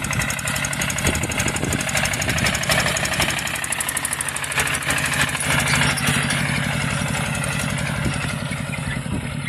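A motor tractor's engine chugs steadily while working a field at sowing time, a loud continuous knocking putter with even rhythm that stays close and unbroken, with no voices over it.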